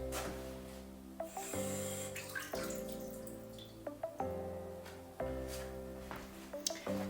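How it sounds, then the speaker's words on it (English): Warm tap water runs into a kitchen sink as an AeroPress filter is rinsed, a steady splashing stream broken by repeated knocks and clinks of the plastic parts against the basin, close and fairly quiet. "So I'm just gonna give this a quick rinse under warm water in the sink."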